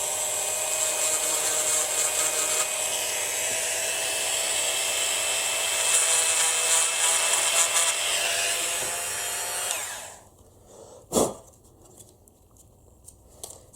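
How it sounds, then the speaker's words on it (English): A Dremel rotary tool at slow speed grinds plastic on a 1/18 scale Huracan model car, a steady high whine lasting about ten seconds before cutting off, followed by a single sharp click. "I'm just going to use the Dremel and carefully grind those off."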